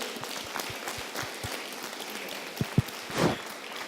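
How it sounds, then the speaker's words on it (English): A conference audience claps steadily in a dense patter of applause at closing remarks, with a couple of louder nearby claps and a brief rustle toward the end. "A round of applause for every one of you."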